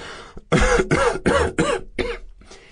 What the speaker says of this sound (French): Elle fut prise d'une quinte de toux.